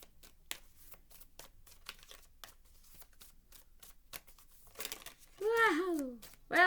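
Earth Wisdom oracle cards are shuffled and drawn: quiet, rapid flicks and soft papery crinkles repeat at close range, followed by a brief voice near the end.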